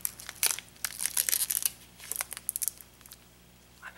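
A Battle for Zendikar card pack wrapper is opened up close. Crisp crinkling and crackling of the foil comes in bursts, then fades to quiet near the end.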